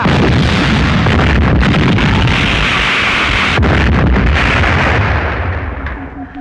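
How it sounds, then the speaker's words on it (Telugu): A bomb goes off in a Telugu comedy film scene: one loud, sustained roaring blast with crackling debris that stays heavy throughout and then fades away at the end. "బాంబు పెట్టాం. కాసేపట్లో పేలుతుంది."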